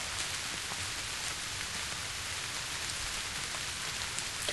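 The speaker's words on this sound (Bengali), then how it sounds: "আর বৃষ্টির সাউন্ডটা সুন্দর।" Steady, dense rainfall from the horror video game Granny, a continuous even patter with no voices or other sounds over it.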